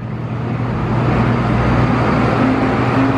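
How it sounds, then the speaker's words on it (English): A loud truck passes on the street, a heavy, sustained low rumble of engine and road noise that swells slightly and stays strong the whole time. "Like, loud ass truck, bro."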